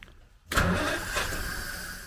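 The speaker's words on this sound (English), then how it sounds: "That's the easiest I've ever seen an engine start." After a moment of near silence, the 1939 Rover Tickford 20 engine, run for the first time in 60 years, catches abruptly and settles into a rough, steady running note, close and fairly loud.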